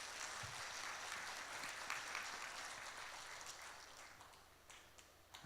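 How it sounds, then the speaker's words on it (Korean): An audience at a library opening ceremony applauds steadily in the distance, a faint, even wash of clapping that slowly tapers off. "박수 한번 쳐주시겠습니까?"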